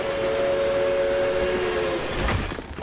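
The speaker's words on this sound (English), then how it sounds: "The train thunders as it grinds to a stop." Video game train thundering and grinding to a stop: a loud sustained rumble with a steady high squeal of iron wheels on rails that fades toward the end, no voices over it.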